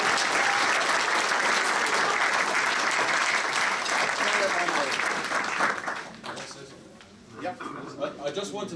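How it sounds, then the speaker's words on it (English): An audience at a classic jazz festival concert applauds, a broad steady roar of clapping for several seconds that thins out, followed by someone speaking into a microphone and a few scattered claps. "So, another round of applause for this guy."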